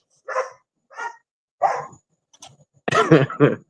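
A dog barks behind a door, giving a few short, muffled barks at first, followed by a louder burst of sharper barks and yips, with no other sound between them.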